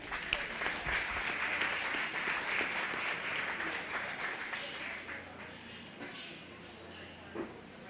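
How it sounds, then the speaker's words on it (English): Audience applause at a 4-H/FFA youth cattle show, a steady wash of many hands clapping that fills the whole stretch at moderate level, with some crowd voices mixed in underneath. "Let's give him a nice round of applause"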